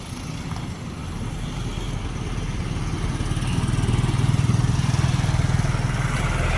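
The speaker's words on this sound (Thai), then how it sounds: "รถนักท่องเที่ยวขึ้นมาจากท่าฝรั่ง เป็นรถบัส" A large engine rumbles steadily and grows louder as a bus drives past, its low drone filling the background.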